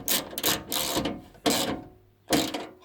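Ratcheting clicks from a wrench tightening nuts on a window regulator in a 2000 Toyota Yaris three-door, delivered in three or four close, loud bursts with short pauses between them.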